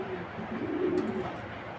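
A racing pigeon coos once in a low, soft, rolling murmur, faint and close in a quiet loft.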